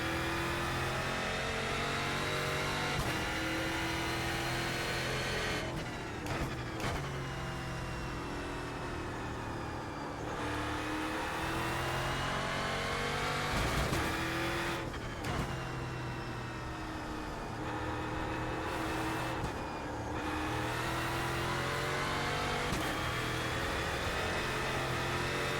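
A Euro NASCAR V8GP race car roars around a lap in the iRacing simulator, its V8 engine holding loud sustained tones that climb through the gears, with sharp dips and shifts as it brakes and accelerates repeatedly.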